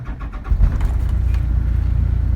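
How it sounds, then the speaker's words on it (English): A 2007 GMC C6500 box truck with an Isuzu 7.8 liter turbo diesel cranks briefly and fires up, settling into a loud, steady low diesel idle close by, with no talking. "Start it up here."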